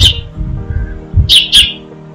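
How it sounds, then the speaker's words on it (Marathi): A sparrow chirps in a tree outdoors, with two sharp, bright chirps close together near the end, heard over a low background rumble. "ती चिव चिव करत आहे."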